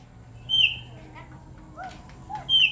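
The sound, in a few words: white starling calling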